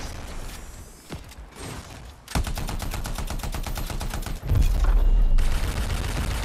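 Rapid automatic weapon fire in the Anthem video game, aimed at a turret, rattling in long loud sustained bursts after a few quieter mechanical sounds, with a heavier booming stretch near the end.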